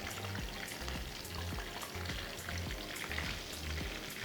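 Chicken broast deep fries in oil with a dense, continuous bubbling sizzle and a steady rhythm of crackling pops, fairly quiet and without talk.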